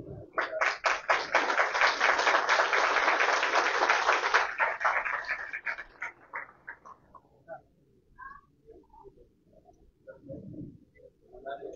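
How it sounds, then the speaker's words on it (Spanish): An audience at an IMSS-Bienestar credential handover ceremony in San Pablo gives a loud burst of clapping that swells, holds for a few seconds and then fades, followed by quiet scattered sounds and a few voices. "Vamos a recibir primeramente con un fuerte aplauso a Inés Julio Gaspariano Coyot"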